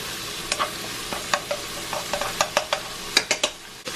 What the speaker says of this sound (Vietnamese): cho hến vào, đảo đều